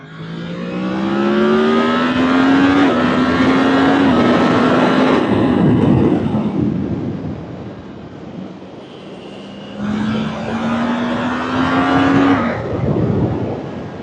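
A Yamaha MT-10 SP motorcycle engine rises and falls loudly while riding, climbing through the revs in long pulls with a steady whine, easing off briefly mid-run, then winding up hard again. No talking.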